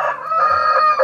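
A rooster crows once, loud and close, in a rural farmyard with chickens: a short, bright, strained call that rises and falls.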